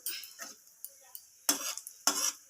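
Broth poured into a pan of lightly fried spice tempering for a rohu fish curry with kulekhara greens, giving three short splashy sizzling bursts, the last two loud and close, with faint clatter in between.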